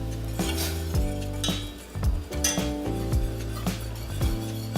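Flour being whisked into a creamy vegan Cajun pasta sauce in a pot, with a quick run of metallic clinks and scraping taps from the whisk against the pan, close and fairly loud, no voices.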